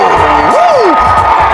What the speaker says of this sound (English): gets the crowd on their feet